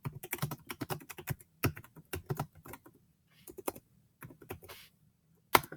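Rapid keystrokes clatter on a computer keyboard in bursts, with short pauses between runs of typing, close and clear.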